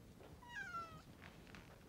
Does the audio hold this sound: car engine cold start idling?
no